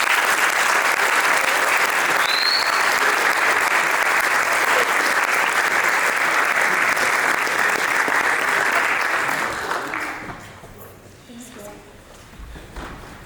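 An audience at a school gathering applauds to welcome a student speaker, with dense, even clapping sustained for about ten seconds before it thins out and fades to scattered claps and quiet.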